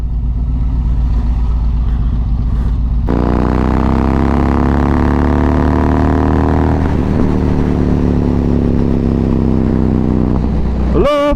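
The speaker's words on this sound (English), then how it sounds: "I love the noise of this motorcycle." A Yamaha MT-01 or Triumph Tiger 1050 Sport motorcycle engine drones steadily while riding, then revs up and climbs in pitch through gears, loud and close with constant wind rush.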